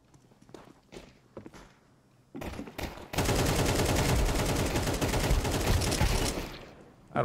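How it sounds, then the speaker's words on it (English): Sustained automatic AK rifle fire in Counter-Strike 2, a loud unbroken burst lasting about four seconds, after a few scattered shots and footsteps. "I'm gonna try the AK."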